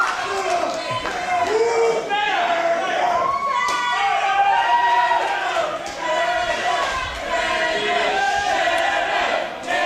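Wrestling crowd at a PWA show cheers and chants for Kanyon, loud and sustained with shouting voices swelling and dipping throughout, a commentator's voice mixed in.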